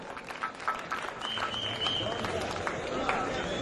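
An audience at a kavi sammelan poetry gathering applauds a poet, a steady wash of many hands clapping that swells and holds, mixed with crowd murmur and voices.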